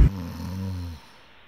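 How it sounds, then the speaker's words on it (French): A person snoring while asleep in a dusty room of a château during an overnight stay. A single low, droning breath sounds close and steady for about a second, then stops. "je constate pas mal de poussière et que je ronfle toujours autant"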